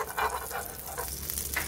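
Butter heats and sizzles in a pan with a soft steady hiss and a few brighter crackling bursts, brief and close, with no talking.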